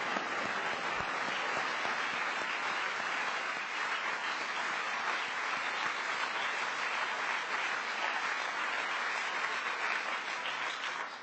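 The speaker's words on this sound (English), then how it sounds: "It's worth applause" A large audience applauds at a formal event honoring a former president, dense sustained clapping filling the whole stretch at a steady loud level before easing slightly at the end.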